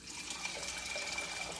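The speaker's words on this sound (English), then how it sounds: "I'm actually gonna put 6 cups of water in this pot." Water runs steadily into a cooking pot holding oats, a continuous faint splashing pour without pauses or talking.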